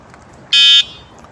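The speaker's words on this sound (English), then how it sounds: "This is the sound of this electric cycle horn" A single short electronic beep from the horn of an Essel E-Cycle Get 7 electric bicycle, shrill and loud, lasting about a third of a second over faint background noise.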